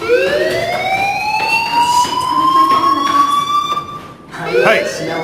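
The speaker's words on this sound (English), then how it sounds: "do you hear that fire alarm?" In Life Is Strange, a fire alarm wails loud and continuous with a rising, siren-like tone that holds steady for several seconds before breaking off.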